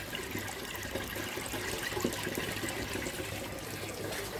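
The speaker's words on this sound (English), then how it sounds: "The water will always flow over here" Water flows steadily through an aquaponics system, a constant, faint wash and trickle with no pauses and no voices.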